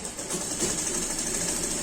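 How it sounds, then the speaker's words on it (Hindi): A sewing machine runs continuously, stitching along the edge of a kurti collar in a fast, even buzz that stays close and steady with no talking. "बिल्कुल किनारे की सिलाई लगाते हुए अच्छे से फिनिश कर दीजिए।"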